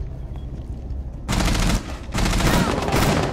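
Two loud bursts of automatic gunfire from Rainbow Six Siege in a Border team deathmatch, close and rapid, separated by a short pause and preceded by quieter game ambience.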